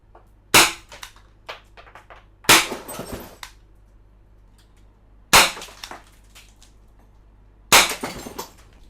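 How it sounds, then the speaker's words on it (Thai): A Win Gun 708 gas-powered gun fires four sharp, loud cracks at intervals, each one shattering a glass bottle with a quick burst of breaking and tinkling glass. "ความรุนแรง ขวดแตกเลยนะครับ"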